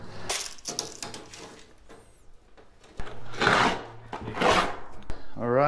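Triton cement backer board being cut and snapped, giving a run of scraping, crunching strokes with a couple of loud cracking bursts near the end, close and dry, with a little background talk.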